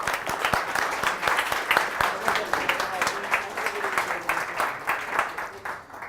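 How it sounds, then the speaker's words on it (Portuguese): An audience applauds steadily at a tech event award moment, the claps thick and sustained before thinning out toward the end, with some voices mixed in. "Palmas pro Filipão."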